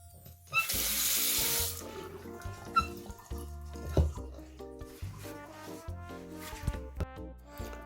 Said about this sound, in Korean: 온수 쪽에 거의 물이 나오지 않고 찔끔찔끔 나오고 있습니다